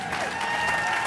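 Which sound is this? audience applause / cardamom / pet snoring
audience applause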